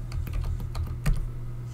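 Keystrokes tapped out on a computer keyboard while entering a Discord account password, a quick irregular run of close, crisp clicks with one heavier press near the end, heard alone over a low steady hum.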